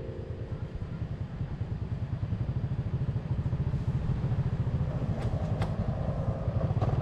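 A motorbike ridden through the streets of Bangkok, its engine putting out a steady, rapid throbbing pulse that rises slightly, close and continuous with faint traffic and a couple of brief high clanks, no talk.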